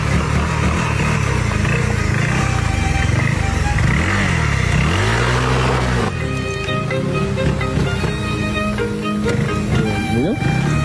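A motorcycle with an upgraded engine on a test ride, the engine note rising and falling through several revs and gear changes, close and loud, with people talking over it and some wind noise.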